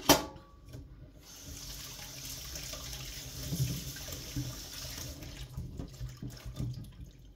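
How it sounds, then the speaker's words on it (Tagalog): Hot water runs steadily from a tap to soak dried lemons in a home kitchen, a continuous close splashing stream that swells slightly in the middle and carries on to the end. "So binababad ko muna sa tubig na mainit."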